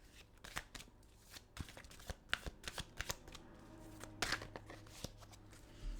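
Tarot cards riffle and slap as a deck is shuffled by hand, a string of crisp papery flicks and shuffles in uneven bursts, close and quiet, with no talking.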